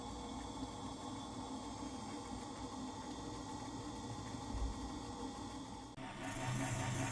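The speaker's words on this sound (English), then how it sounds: "I am finishing them on a copper lap charged with 1200 diamonds" A faceting machine spinning a copper lap charged with 1200 diamond, polishing citrine gemstone facets, a steady close mechanical whir and hum that shifts slightly near the end.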